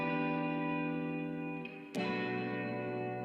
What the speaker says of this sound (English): So the guitar loop on its own sounds like this.